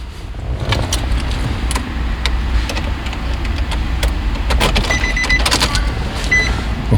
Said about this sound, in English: Let me turn the key on.